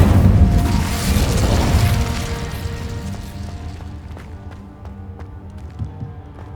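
An Incendio fire spell bursts in Hogwarts Legacy, a loud whooshing boom that fades over several seconds into crackling game effects and small clicks.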